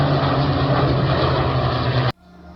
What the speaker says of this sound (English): They have massive formations of World War II planes and other various stunt aircraft that are flying around and performing aerobatics.